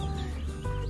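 Backyard hen, a free-range Pedrês caipira that had been laying and brooding eggs, giving a short burst of low clucking up close, with no talk.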